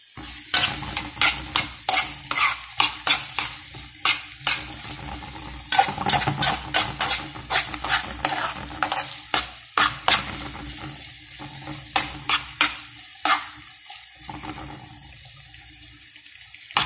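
Chili going into a pan for the Ilocano dish poqui poqui, giving a steady close stir-fry sizzle broken by a rapid series of sharp utensil clacks and scrapes against the pan, with no one talking.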